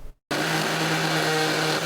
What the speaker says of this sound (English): That's the sound of a century-old seal being broken.